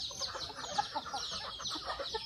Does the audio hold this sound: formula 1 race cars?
no